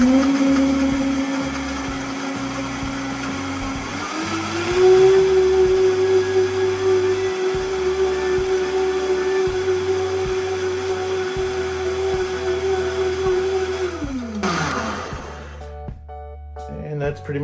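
A countertop blender whirs steadily at high speed, blending a protein shake with banana, the motor pitch rising once and holding before winding down near the end, with low voices and thumps underneath.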